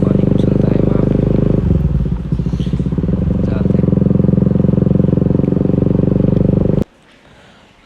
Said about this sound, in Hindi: इस जगह पे हम बाइक चलाने वाले हैं बहुत स्पीड में